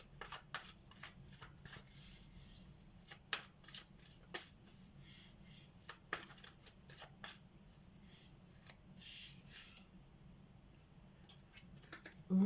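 Tarot or oracle cards are shuffled and drawn for a reading, soft close riffles and light slaps of card on card in scattered quick bursts over a quiet room.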